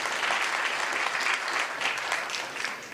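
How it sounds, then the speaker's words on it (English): An audience at a Conservative Party event in a banquet hall gives a steady round of clapping, moderately loud and continuous, easing slightly toward the end. "I think that's a round of applause."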